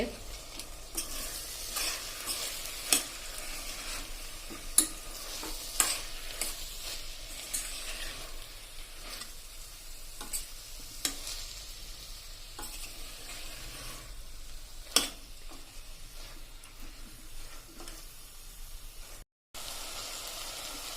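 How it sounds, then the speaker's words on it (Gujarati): Green pigeon peas stirred in a hot pan of oil, a continuous sizzle and frying hiss with frequent spoon scrapes and a few sharper clinks, close and steady throughout. "હવે આપણે એમાં આ લીલી તુવેરના દાણા નાખી દેશું."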